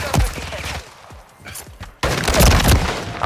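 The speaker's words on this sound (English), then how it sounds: "Shots flying, bro." Gunfire in the video game Call of Duty MW3: a loud close burst up front, scattered distant shots and thumps in a quieter middle, then a heavy eruption of fire and booms; a voice speaks faintly beneath.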